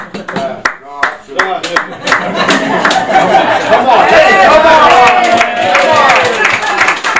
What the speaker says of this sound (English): The more you clap, the more I get to drink